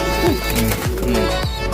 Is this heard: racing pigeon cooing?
yes